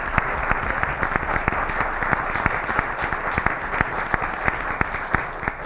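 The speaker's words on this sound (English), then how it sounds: "So quick round of applause." Steady applause from an audience at a Board of Education meeting, many hands clapping in a dense, even wash with sharp individual claps standing out, sustained throughout at a fairly loud level.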